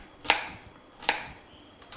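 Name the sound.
chopping onion with a knife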